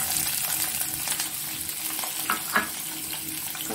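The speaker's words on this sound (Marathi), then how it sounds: "तेल टाकलं आहे 2 चमचे, त्यात मी घेतलेला मोठा चिरलेला कांदा टाकतो" Chopped onion frying in two spoons of oil, a dense steady sizzle close to the pan with a couple of faint stirring scrapes near the end, no voices.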